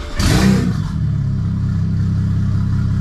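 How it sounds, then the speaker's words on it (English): A BMW N54 engine with no exhaust fitted cranks and fires, a brief loud rough burst settling quickly into a steady, raw, close idle rumble. "Let's start it up again, and it is very fumey and noisy with no exhaust."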